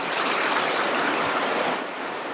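Steady rushing of a creek falling over rocks in the North Absaroka Wilderness in April, a dense continuous wash close by, constant throughout.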